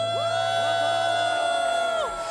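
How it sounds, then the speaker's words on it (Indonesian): Congregation cheering and whooping at an online church worship service, a loud crowd roar with sustained high shouts and long held vocal tones rising and falling over about two seconds. "lambaikan tanganmu sambil sorakan"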